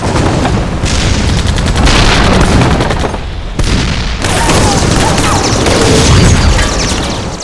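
U.S. Sherman tanks fire at point-blank range on a Japanese Ha-Go in a Pacific battle, a loud, continuous barrage of booming shots and crackling gunfire with brief dips between bursts.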